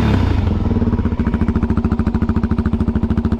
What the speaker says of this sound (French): je vais vous allumer cette petite moto incroyable qu'est la 450 SR